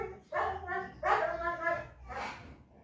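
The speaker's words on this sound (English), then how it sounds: "This dog is competing with me." A dog in Harare barks three times in quick succession, fairly close and loud, each bark a full-throated bow-wow, with a brief pause between the second and third.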